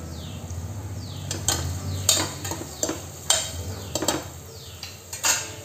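Coriander powder and ginger garlic paste sautéing in a pan: a soft background sizzle broken by a spoon scraping and clinking against the pan at irregular intervals, close by, with no talking.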